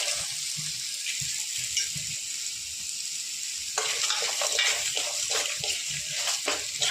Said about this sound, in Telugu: మినప్పప్పు, వేరుశనగపప్పు, నువ్వులు అన్నీ వీటిలోనే లైట్గా దోరగా వేయించాలండి.